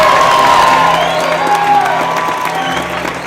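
An audience in Austin, Texas applauds and cheers loudly for a small band, with dense clapping, whoops and shouts over a held instrumental tone that fades away.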